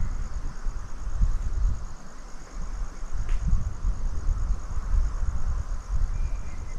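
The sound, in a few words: forest night sounds, crickets and insects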